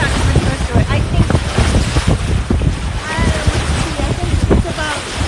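Two-foot waves wash and slap around a sailing boat off SW Florida, mixed with heavy wind buffeting on the microphone. The sound is loud and continuous, with a voice speaking faintly over it.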